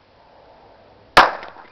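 A bomb bag novelty toy bursts with a single sharp, close pop after a near-silent pause, followed by a short fading fizz.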